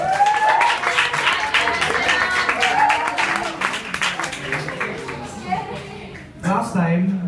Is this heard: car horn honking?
no